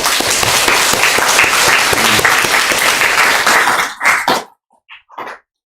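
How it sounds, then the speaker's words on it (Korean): A church congregation applauds warmly, with dense clapping lasting about four seconds before it breaks off into a few scattered final claps. "마음을 담아서 박수 한번 쳐주세요."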